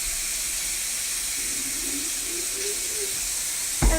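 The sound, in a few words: hot water running into a jug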